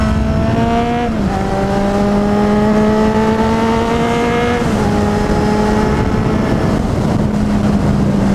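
A Kawasaki Z800e motorcycle engine accelerating hard, loud and close, with a steady rising whine that drops briefly at two gear changes before climbing again.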